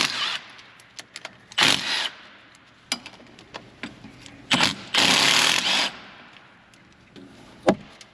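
Bursts of an impact gun working bolts loose on a Jeep, several short rattling hits and a few longer ones, close and loud with pauses between.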